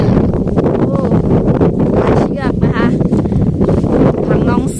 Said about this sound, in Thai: วันนี้อยู่ข้างนอกนะคะอากาศลม ลมนะคะ